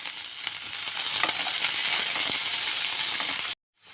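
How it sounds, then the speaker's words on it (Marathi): Potato, carrot and beans sauté in a kadhai, a steady close hiss of frying with soft stirring scrapes that cuts off abruptly near the end. "आता बटाटा, गाजर आणि बिनीस तिन्ही छान सॉटे झालाय"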